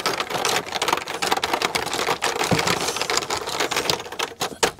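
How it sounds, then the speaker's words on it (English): Thrifted manual typewriter being tested, keys struck in rapid continuous clatter with dense mechanical clacks and thumps throughout, loud and close with no pauses. "not really exactly a calculator, but a typewriter"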